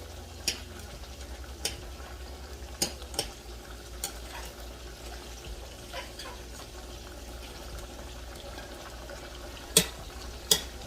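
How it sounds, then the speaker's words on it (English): Noodles being stirred in a pot of boiling water, with soft scraping and clinking strokes at irregular intervals over a low, steady bubbling bed; two sharper knocks near the end stand out. "Let me stir my noodles just so they don't stick at all"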